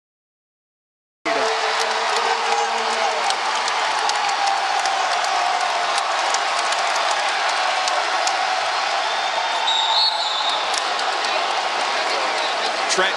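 A rowdy basketball arena crowd roars in a steady, dense wash of noise with scattered cheers and whoops, loud and continuous after a short silent opening.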